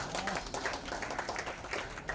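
Faint applause from an audience at a book awards ceremony, with steady dense clapping that runs throughout at a distance and never swells.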